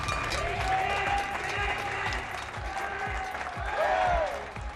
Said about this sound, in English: millions of people came out to their doorsteps, their gardens, their balconies and windows to clap for our carers